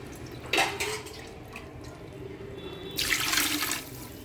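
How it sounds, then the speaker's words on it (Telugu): Water poured onto rice for prawn biryani, two short splashing pours a few seconds apart over a quiet background. "ఒక గ్లాస్కి రెండు గ్లాసులు వాటర్ వేసుకోవాలి"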